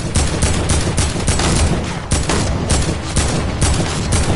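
Rapid assault rifle fire from a PS4 shooter game rattles in dense, continuous automatic bursts, loud and close, with only short breaks between volleys.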